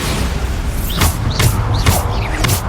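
Four Bombarda blasting spells erupt in quick succession in Hogwarts Legacy, each a sharp, loud booming burst with a trailing whoosh, spaced about half a second apart over a continuous rumbling backdrop.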